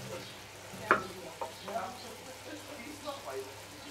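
Onion and garlic fry in a pan for a paprika chicken dish, a faint, soft sizzle marked by a few light clatters and stirring taps, with a quiet voice in the background.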